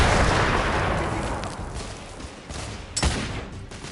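Heavy gunfire rattles through a firefight in the video game The Order 1886, a dense, continuous barrage of shots with a sharper close burst near the end.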